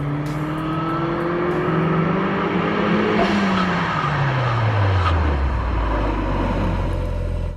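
A turbocharged Mazda MX5 making 277 hp at 0.6 bar of boost accelerates hard from a standstill toward 100 km/h, its engine loud, close and continuous, with the pitch climbing and dropping through shifts.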